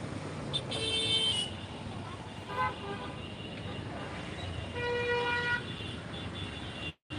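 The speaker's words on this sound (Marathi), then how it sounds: "हॉर्नचाच आवाज तुम्ही ऐका" Car horns toot repeatedly amid busy Mumbai street traffic near a bus stop, a few honks sounding near and others farther off over a steady roadway rumble.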